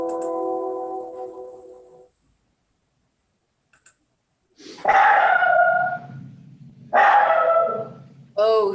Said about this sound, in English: Oh, who's barking out there?